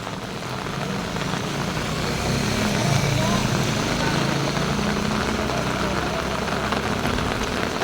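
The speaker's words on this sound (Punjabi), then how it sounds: "ਜਿਹੜਾ ਮੀਂਹ ਆ ਉਹ ਵੱਧ ਰਿਹਾ ਹੈ" Heavy rain falling steadily in a village, a dense broadband hiss of drops pounding surfaces that swells slightly and holds loud and close throughout, with no talk.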